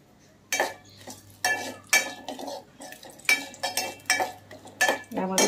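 Whole spices stirred in melted ghee in a pan for a Kolhapuri white chicken curry: a close series of scraping, clinking strokes of a spoon against metal, repeated steadily at moderate loudness with a low hum underneath.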